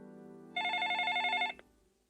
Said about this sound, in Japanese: その喧嘩の最中に電話が鳴ったのだった